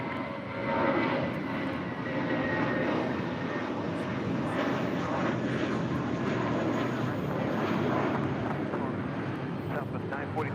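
A fixed-wing airliner rumbles with a broad, sustained engine roar while taking off on runway 25 Left at Los Angeles International Airport, heard from a distance with faint radio chatter in the background.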